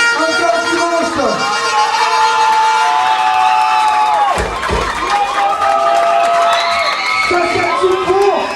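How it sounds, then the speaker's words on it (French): Loud crowd at the grand final of an interschool Miss pageant cheers, whoops and shouts, with voices rising and falling in long sustained calls over a noisy hall. "Ange-Laure Dimanche, mesdames, messieurs, sous vos applaudissements."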